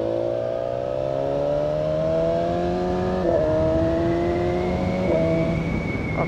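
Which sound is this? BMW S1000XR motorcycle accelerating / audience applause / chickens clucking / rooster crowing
BMW S1000XR motorcycle accelerating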